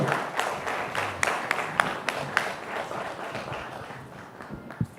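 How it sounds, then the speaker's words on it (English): An audience at an AI summit event applauds, a dense round of clapping with a few sharper individual claps that fades slightly toward the end, with no talk over it. "Maybe you want to do another one, and they'll give you another big round of applause."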